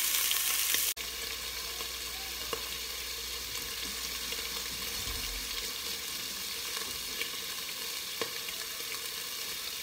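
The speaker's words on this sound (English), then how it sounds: "So I got my sausage in, and when I drop it in, I always feel like it's gonna splatter back at me" Sausage fries in a hot pan with a constant, fairly loud sizzle and crackle, a brief knock near the start, and no voices.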